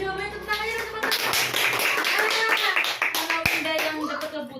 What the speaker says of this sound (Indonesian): tepuk tangan aja teman-teman